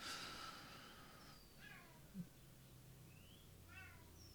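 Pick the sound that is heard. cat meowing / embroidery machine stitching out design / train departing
cat meowing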